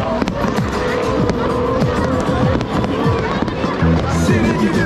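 New Year fireworks in Poland burst in rapid, irregular cracks and bangs, some near and loud, others more distant, with crowd voices and talking mixed underneath.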